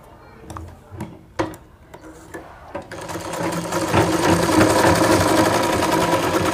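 An umbrella-type sewing machine starts stitching after a few scattered ticks and clicks, building into a steady, loud mechanical whir with rapid needle rhythm close by.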